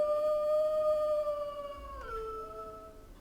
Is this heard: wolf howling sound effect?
yes